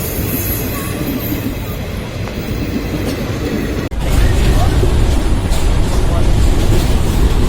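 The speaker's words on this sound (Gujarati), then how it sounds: "લો ભાઈ લો ભાઈ અમારી ટ્રેન આવી ગઈ છે" A train arrives at a station at night, rumbling close by with a steady heavy roar and rattling wheels, growing louder partway through, while people talk nearby.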